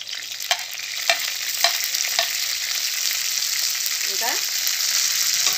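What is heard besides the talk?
frying and stirring green chillies in a pan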